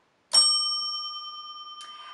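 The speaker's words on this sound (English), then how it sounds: "So they ring the bell." In a young children's classroom, a child rings a small bell. Two bright, clear dings sound, the first ringing out long and sustained, the second lighter, with near silence around them.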